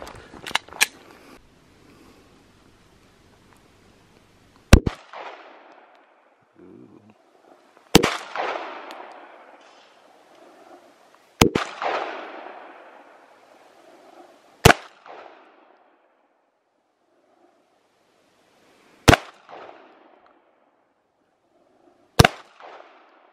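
Gunshots fired outdoors during a morning of target shooting, six sharp loud reports spaced several seconds apart, each trailing a long echoing decay, with faint talk between shots.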